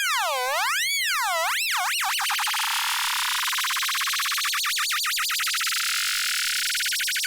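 A synthesizer with an LFO routed to oscillator pitch produces a bright wobbling tone whose pitch swoops in slow, wide waves and then speeds into a fast, tight vibrato, steady and loud with no voices.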